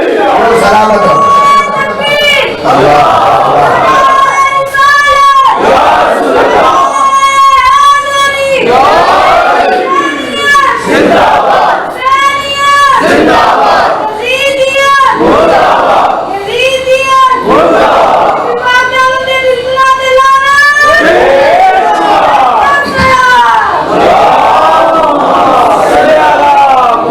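A large crowd at a Muharram majlis gathering chants the slogan Haidari in loud, repeated rhythmic bursts of massed voices, each shout swelling and breaking off in steady cadence across the whole stretch.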